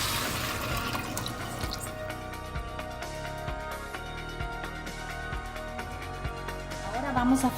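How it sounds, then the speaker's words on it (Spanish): Water saved from cooking meat pours into a pan of beans and mote fried in a refrito, a steady close splashing that runs over the low simmer and ends with a burst of gurgling. "Vamos a poner el agua que teníamos en que cocinamos la carne."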